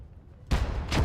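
Artillery fire in the WWII strategy game Gates of Hell: a sudden loud boom after a moment of near silence, then a second heavy blast close behind, both rumbling and fairly near.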